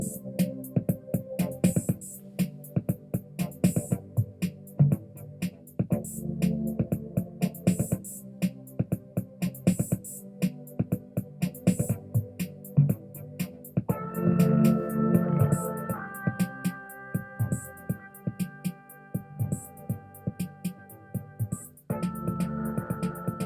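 A BandLab music track with heavy distortion and auto-wah plays a punchy repeating beat with gritty sustained tones, steady and loud throughout with no talking.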